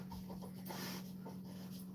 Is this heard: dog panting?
yes